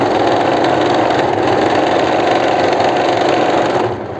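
A sewing machine runs continuously as it double-stitches the hem of a palazzo pant, a steady, close mechanical whirring hum that eases off at the very end.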